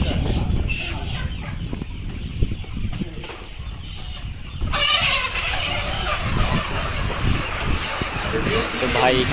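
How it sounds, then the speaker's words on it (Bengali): Layer hens on a farm cluck and squawk as they are picked out by hand, a busy, continuous flock sound with scuffling and a burst of louder commotion midway. "তো ভাই এখানে আছে মুরগি বাছাই করে নিচ্ছে"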